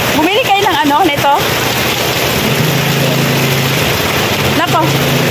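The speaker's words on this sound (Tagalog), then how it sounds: "Lakas ng ulan oh, grabe." Heavy rain from a typhoon hisses steadily throughout, a broad constant wash with a low engine-like hum beneath; a voice speaks briefly at the start and again near the end.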